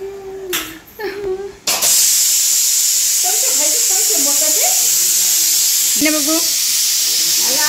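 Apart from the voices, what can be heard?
pressure cooker hissing steam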